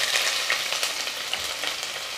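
Onions frying in sesame oil with cardamom and cinnamon for a mutton kuzhambu, a steady close sizzle and crackle with light stirring, no talking.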